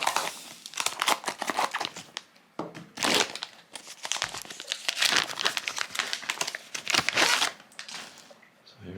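Vacuum-sealed plastic packaging around a Kurono Tokyo watch crinkles and crackles loudly up close as it is cut and pulled open, in uneven bursts with short pauses.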